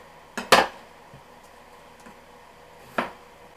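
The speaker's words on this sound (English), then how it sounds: "Now this bigger eggplant I'm going to have to cut into squares or cubes." A kitchen knife chops through a large eggplant, cutting it into cubes on a board, giving a couple of sharp knocks close together near the start and one more after a quiet pause.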